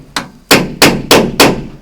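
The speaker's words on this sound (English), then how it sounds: "hammer blows" Five loud, close hammer blows ring out while fitting windows into a campervan conversion: one lighter tap, then four heavier strikes in a fairly even rhythm, each with a short decaying ring.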